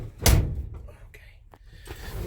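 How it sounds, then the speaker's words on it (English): The door of a 1966 Chevy C10 pickup swings shut with a single heavy thunk near the start, followed by quieter rustling and shuffling; a voice is briefly heard nearby. "Let me shut this door."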